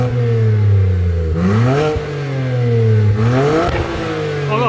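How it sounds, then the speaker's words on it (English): A BMW 335i fitted with an aftermarket exhaust revs hard twice, each blip rising sharply and then settling back to a deep, rumbling idle, loud and close by with no talking. "I think that's probably one of the nicest exhausts I've put on a car."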